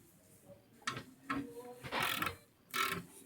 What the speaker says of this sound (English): Start the ratcheting process.